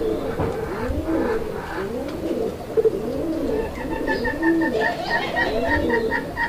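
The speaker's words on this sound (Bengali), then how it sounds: "আপনারা দেখতে পাচ্ছেন কবুতরটার ডাক মাশাআল্লাহ একদম ভরপুর ডাকের একটা পেয়ার" A pair of pigeons cooing close by, repeated rolling coos in a steady rhythm, with faint chirping birds in the background.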